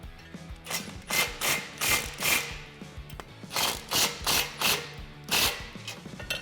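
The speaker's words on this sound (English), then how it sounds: "we are going to tighten that down with a 18mm socket and 19mm wrench" A ratchet with an 18mm socket, backed by a 19mm wrench, tightens the bolts on a Deegan 38 rear bumper for a Jeep Wrangler JL: about ten quick rasping strokes in a close, even rhythm.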